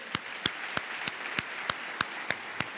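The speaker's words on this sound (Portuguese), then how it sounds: "Então dê mais um aplauso bem forte ao Senhor." Slow, evenly spaced hand claps at a church service, about nine sharp claps in a steady rhythm, moderately close with a faint room background.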